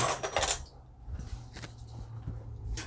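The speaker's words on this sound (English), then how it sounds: "And then you use a spoon to spread that even." A spoon spreading pizza sauce over dough, with scraping and clinking against the pan at the start, then quieter intermittent scrapes and taps, close and soft.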